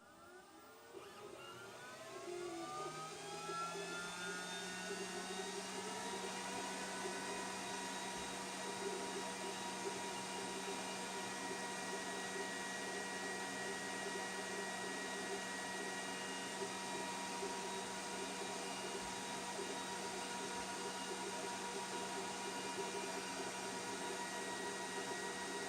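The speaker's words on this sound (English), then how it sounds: "here's a little video run of the cutting of the inlay." A Glowforge laser cutter works on a coaster inlay veneer, its fans and air assist spinning up and then holding a steady, loud whirring hum throughout.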